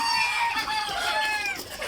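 Egyptian Fayoumi chickens give a close, sustained crowing call with clucking, loud and continuous for nearly two seconds.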